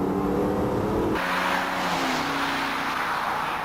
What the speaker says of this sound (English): Then try some upshifts at 3/4 throttle to see if the clutches and band are in normal condition.